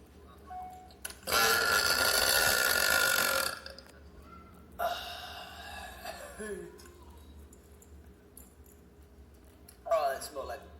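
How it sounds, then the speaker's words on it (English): A man forces out a long, loud fake burp, followed by a weaker second belch and a short third one, with brief talk in between. "That was an awful fake burp."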